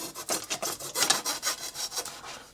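Balsa wood being trimmed and sawn for a scratch-built 25-inch EDF Gnat model jet, a steady run of about ten rhythmic rasping strokes, close and fairly quiet, with no talking.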